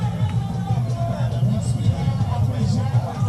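A huge crowd at the Akwasidae celebration for Otumfuo Osei Tutu II's 25th jubilee fills the air with a dense, continuous murmur of many voices, low and steady with no single voice standing out.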